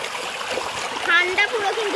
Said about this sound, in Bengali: এই যাচ্ছে জল, বেঁধে বেঁধে যাচ্ছে, শব্দ হচ্ছে, ছল ছল ছল ছল করে একটা আওয়াজ শুনতে পাচ্ছে